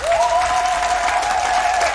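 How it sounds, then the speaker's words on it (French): A church congregation at a consecration Mass in Agou, Côte d'Ivoire, breaks into loud, sustained applause, a dense wash of clapping filling the space with a high, steady tone or whistle running through it. "Nous applaudissons très fort"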